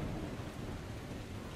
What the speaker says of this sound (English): is it storming like crazy, yo?